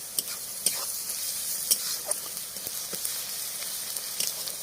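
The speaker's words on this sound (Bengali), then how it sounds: "দেখো একদম ভেজে নিচ্ছি এবার রসুনের কুচি দিচ্ছি" Chopped onion and garlic frying in a pan for a desi chicken dish, a steady close sizzle with scattered crackles and stirring scrapes throughout, no voices.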